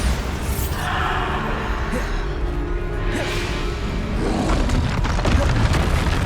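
Bombarda explosion spells in Hogwarts Legacy boom through dense, continuous game combat, with low rumbling blasts and whooshing bursts layered under background music and effects over several seconds.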